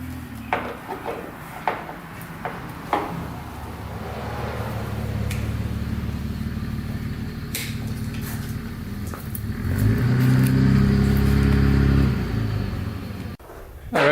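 A vehicle rolls up and idles outside a garage, its engine rumble swelling in the second half after scattered knocks and clatter, then cutting off abruptly near the end.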